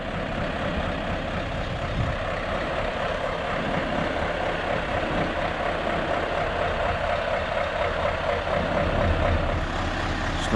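An upgraded Scania S650 V8 truck idles steadily in a yard while its trailer is being dropped, a continuous low engine rumble with some faint higher mechanical noise and no talk.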